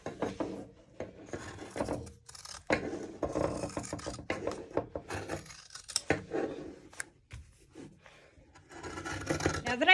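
Scissors cutting through thick fabric for a backpack, repeated crunchy snips and rasping rubs in an irregular rhythm, close and continuous with brief pauses, no talking.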